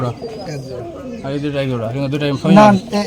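Pigeons on a pigeon farm give low, throaty coos close by, with one stronger coo near the end, mixed in with a person talking.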